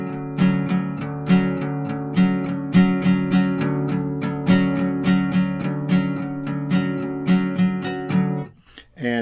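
An electric or acoustic guitar plays a syncopated riff, a steady, repeating strummed chord pattern with accented eighth-note hits, loud and close, running alone for about nine seconds before a brief scrape at the end.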